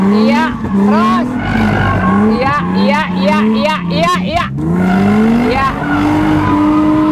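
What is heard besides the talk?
car drifting with tires squealing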